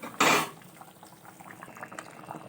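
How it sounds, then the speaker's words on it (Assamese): Fish curry soured with amora simmering in a pot, a short loud bubbling burst followed by quieter soft popping and gurgling, close by with no talk. "তাৰপিছত আৰু 2 মিনিটমান উতলিবলৈ দিওঁ।"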